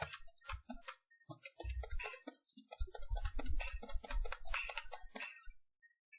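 Someone types a question on a computer keyboard, with a steady run of quick, close key clicks and occasional heavier keystrokes, and no talking.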